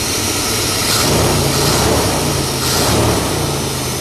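A fuel-injected car engine idles in cold-start mode, giving a steady, loud, dense drone with a slight rise and fall throughout, heard close with no talking.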